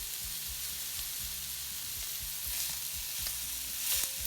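Steak sizzling on a griddle pan, a bright steady hiss close up, with a faint rhythmic low mechanical pulsing underneath.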